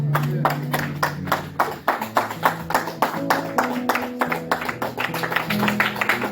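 Church congregation clapping together in steady rhythmic applause to acclaim Jesus, with music or singing tones sustained underneath throughout.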